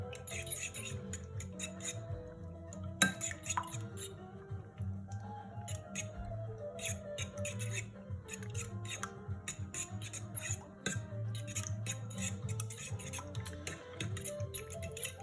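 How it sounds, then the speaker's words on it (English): A fork whisks eggs in a bowl for French toast, scraping against the bottom in quick, repeated ticking and scratching strokes. The sound is steady and fairly quiet, with close clicks that keep coming throughout. "You can use a whisk for this, but I like to use a fork. It'll make an awful noise if you scrape it off the bottom"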